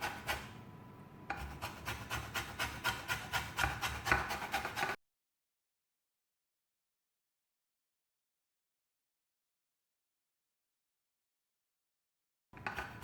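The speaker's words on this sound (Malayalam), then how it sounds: "നാരങ്ങയുടെ മഞ്ഞ മാത്രമേ ചുരണ്ടി എടുക്കാവുള്ളൂ." Lemon zest is rasped off on the small holes of a grater for a beetroot cake, a quick run of rhythmic scraping strokes that stops abruptly, followed by a long silence and a brief return of scraping at the end.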